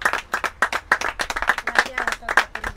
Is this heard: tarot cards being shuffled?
no